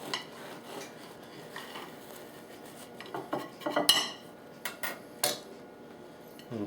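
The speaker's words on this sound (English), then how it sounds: "But you take a serrated knife," Serrated knife sawing through a loaf of bread to cut it in half, faint scraping strokes building into sharper crunching rasps and clicks toward the end.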